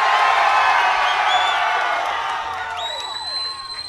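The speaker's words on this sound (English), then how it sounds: "You mean the roar of applause?" Festival crowd at the Lakewood Amphitheater cheering and applauding, a dense sustained roar with whoops and whistles that tapers slightly toward the end.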